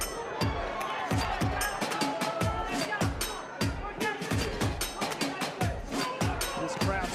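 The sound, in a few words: boxing arena crowd buzzing in Dallas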